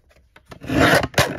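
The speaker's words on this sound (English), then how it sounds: "I am using my deckled edge trimmer." A deckled edge trimmer slices through paper in a short, close rasping cut with two quick bursts and a faint scrape before them.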